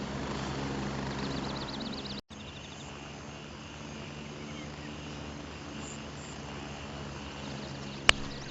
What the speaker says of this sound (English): There's my helicopter flying away.